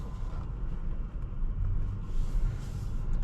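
Steady low road rumble from a 2023 Tesla Model S Standard Range pulling away, heard from inside the cabin: a continuous dull drone with faint tire and wind noise and no engine note.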